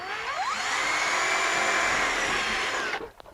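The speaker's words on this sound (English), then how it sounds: "You use regular, any metal drill bit." A loud, steady power drill with a metal bit whines through aluminum siding for about three seconds, then cuts off abruptly.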